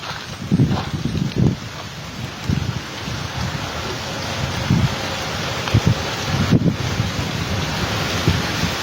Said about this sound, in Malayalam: എന്താ നല്ല കാറ്റ്